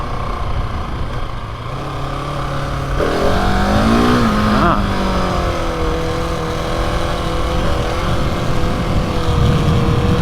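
A Husqvarna 701 Enduro motorcycle revs up in first gear, its engine note climbing and wavering as it accelerates, loud and close, with wind noise throughout and no talk.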